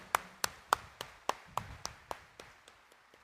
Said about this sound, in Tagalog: Kaya bigyan natin ng mas malakas na palakpak ang mahal na pong Jesus Nazareno.